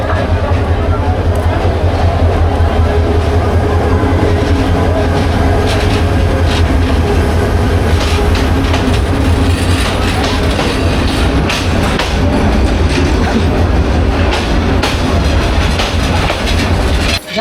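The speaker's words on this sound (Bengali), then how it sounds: "জামালপুরগামী দুইটা এক্সপ্রেস ট্রেনটি একটা তেতাল্লিশ মিনিটে ভৈরব রেল স্টেশন তিন নম্বর প্ল্যাটফর্মে প্রবেশ করলো" The Bijoy Express, bound for Jamalpur, rolls into platform three at Bhairab railway station with a loud, steady rumble and rhythmic wheel clatter close by, and a faint squeal near the end.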